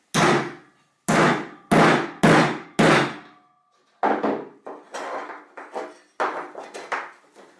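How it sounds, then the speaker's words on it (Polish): Sharp metallic hammer blows ring out close by as a folded strip of sheet metal is flattened: five evenly spaced heavy strikes, a pause, then a quicker irregular series of lighter taps. "kawałek blaszki, który zginamy na pół i za pomocą młotka spłaszczam"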